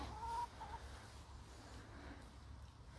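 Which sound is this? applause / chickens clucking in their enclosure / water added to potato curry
chickens clucking in their enclosure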